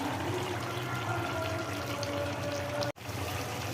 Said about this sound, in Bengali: পরিমাণ মতো পানি ঢেলে দিলাম